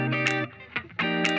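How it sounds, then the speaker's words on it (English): In a K-pop dance track, a dry snap without reverb lands over a looping synth chord pattern, two short, tight hits that stop cleanly with no lingering tail. "snap sound without the reverb sounds like this"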